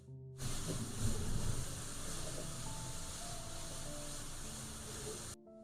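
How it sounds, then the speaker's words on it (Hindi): Onion, carrot and cabbage sizzle in two tablespoons of hot cooking oil, a steady close hiss with a louder burst early on as the vegetables are stirred, then holding even until it cuts off. "पैन में डालेंगे 2 टेबलस्पून कुकिंग ऑयल, प्याज डालेंगे, गाजर, बंद गोभी, मिक्स करेंगे और सब्जियों को सॉफ्ट होने तक फ्राई करेंगे।"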